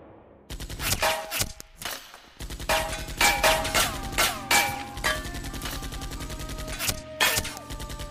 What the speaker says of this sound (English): A bullet gazes past Alia. Arif is responsible for this attack on Alia.